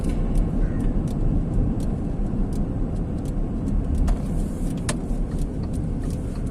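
An Audi Q7 3.0 TFSI SUV drives and makes a full U-turn, giving a steady engine and road rumble from inside the cabin, with faint ticks and clicks over the continuous drone.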